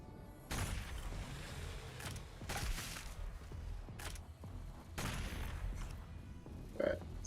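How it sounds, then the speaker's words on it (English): Heavy cannon gunfire in DOOM Eternal, fought against gargoyles: several quick bursts of rattling shots, fairly faint and separated by short pauses, over a low, constant game background. "Get your heavy cannon out. This will help kill the gargoyles."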